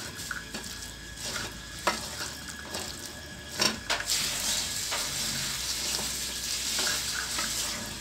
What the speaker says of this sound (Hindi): अब इनको भी इसमें मिक्स कर लेंगे आराम से